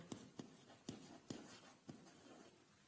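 Handwriting a number during a Grade 6 and 7 maths lesson on whole numbers, five or six short, separate scratchy strokes, close and fairly quiet, with no voices.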